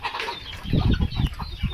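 Several chickens on a goat and poultry farm cluck close by over a low rumbling background, in short, uneven bursts.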